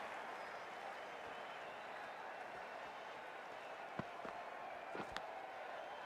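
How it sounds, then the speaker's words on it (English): A virtual stadium crowd in the video game Cricket 24 keeps up a faint, steady roar of cheering, broken by a few sharp knocks and thuds near the end. "It's almost palpable, the excitement emanating from this crowd at the moment."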